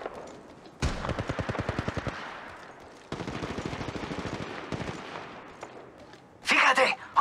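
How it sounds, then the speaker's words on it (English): Automatic weapon fire in Apex Legends Mobile: two long rapid bursts of close, loud shots separated by a short pause, followed by a sharp noisy blast near the end. "Opening fire on the enemy"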